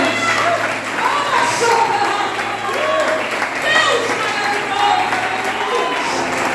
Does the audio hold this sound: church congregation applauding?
yes